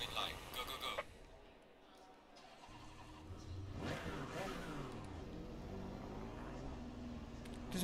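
A GT4 race car engine revving in the sim racing game Assetto Corsa Competizione at Oulton Park, a thin, high-pitched buzzing drone that climbs in pitch and holds steady at moderate loudness, with someone talking over parts of it.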